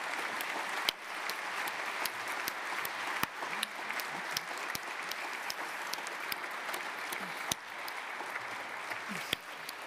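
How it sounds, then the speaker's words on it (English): A conference audience at an energy congress gives the ambassadors steady, moderately distant applause, a continuous patter of many hands with occasional sharper individual claps standing out. "And now I would like you to give a round of applause to the ambassadors."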